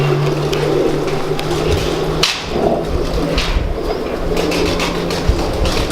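Pigeons cooing nearby in a pigeon keeper's loft, low repeated coos over a steady background hum with occasional knocks and rustles.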